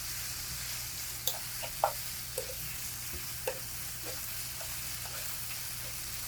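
Kimchi and pork stir-fry in a pot with a steady, even sizzle, broken by a few sharp clinks and scrapes of a utensil stirring.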